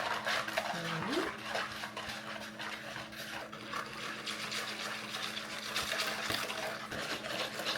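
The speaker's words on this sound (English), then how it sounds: "in a large bowl, we'll stick it to the brown sugar and the eggs until it's smooth. I guess I can use a hand whisk instead of my electric." Hand whisk stirring brown sugar and eggs in a large bowl, a quick continuous scraping and clinking of metal against the bowl, close and busy throughout with no voices.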